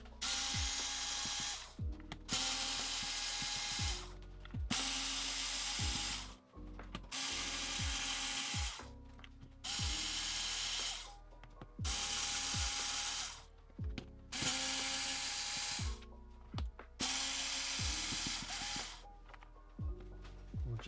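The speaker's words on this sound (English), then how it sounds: "it looks like we've got 8 more screws around the edge here, so we'll tear those out right now." A small power driver backing out the screws around the edge of a JBL Tuner 2 radio casing, eight or so evenly spaced whirring bursts, each ending in a descending whine, close and alone.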